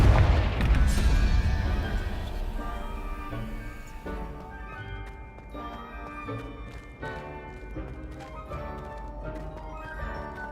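A Confringo spell detonates in Hogwarts Legacy, a loud blast at the start that fades into ringing tonal debris, with lighter impacts and game music afterward.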